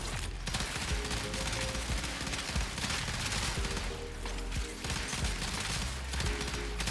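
The Cyngas arc gun in Warframe firing in sustained rapid bursts, a dense barrage of gunfire with chaotic impact noise that stays loud and continuous throughout, with no talking.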